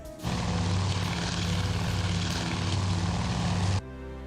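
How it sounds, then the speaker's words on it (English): A propeller search plane in the naval combat game Task Force Admiral, set during the Coral Sea battle, drones loudly with a steady engine roar before cutting off abruptly. "There went our search plane."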